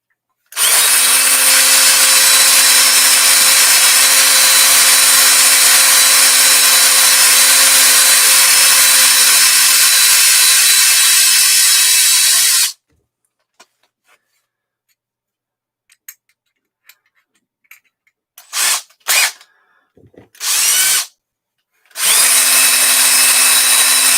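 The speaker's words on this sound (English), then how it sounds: "Just toss in the drill." A power drill spins a pin against a pad of steel wool on an Arrma Outcast 8S RC car part, a loud steady whir for about twelve seconds, then stopping, followed by short bursts and a final run.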